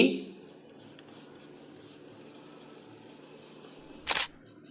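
Marker or chalk writing on a board during a physics lesson, faint steady scratching strokes, ending in a brief louder scrape, with a voice at the start.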